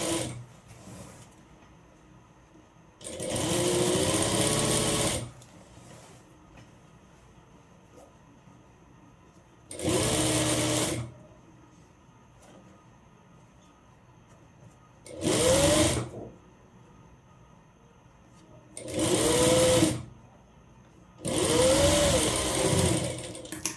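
A sewing machine top-stitches an umbrella frock in five separate loud bursts of rapid whirring stitching, each lasting one to three seconds, with quiet pauses between them.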